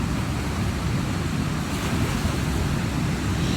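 A loud, constant roar of rushing floodwater at Lake Malone, western Kentucky, dense and unbroken, with a windy rumble underneath.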